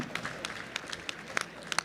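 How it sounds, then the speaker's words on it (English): A health tech pitch competition audience gives a short burst of applause, with scattered individual claps standing out from the crowd. "Round of applause, please."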